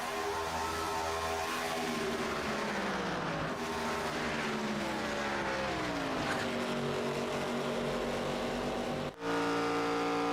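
Race cars racing at Charlotte Motor Speedway, a loud continuous engine roar with shifting pitch as cars pass and accelerate, steady throughout with no voices.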